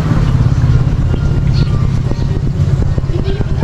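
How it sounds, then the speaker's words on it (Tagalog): A noisy motorcycle engine that has been smoking and leaking oil runs close by, loud and rough with a steady low drone and scattered sharp clatters. "Tapos maingay yung makina."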